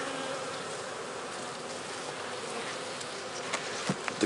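Honey bees buzz in a steady, close drone over a frame lifted from a mini nucleus hive, with a few soft knocks and handling bumps near the end.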